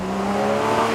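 A Porsche Boxster S flat-six engine drones steadily with the roof down, holding a strong harmonic note at high revs, loud and close throughout with no talk.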